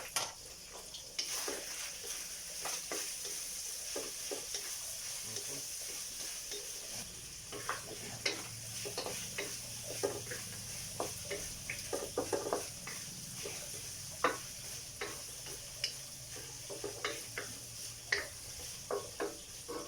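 Onions frying in a pan with a faint sizzle under frequent small scrapes and taps as they are stirred, irregular clicks growing busier after the first few seconds.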